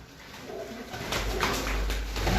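Pigeons cooing in a breeders' loft in Hafizabad, a soft steady murmur of low coos that grows fuller and denser partway through, with no talking.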